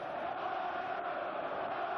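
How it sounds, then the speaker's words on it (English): A large boxing arena crowd at a middleweight fight keeps up a continuous, dense roar of chanting and singing, a steady wash of massed voices heard from within the venue. "Listen to this crowd, the chanting, the singing."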